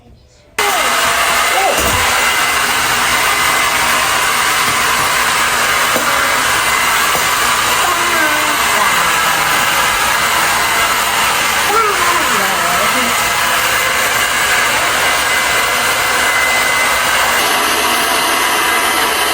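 A hair dryer blows steadily and loudly at close range while drying hair at home, switching on abruptly and running as a continuous whooshing hum, with a brief shift in tone near the end.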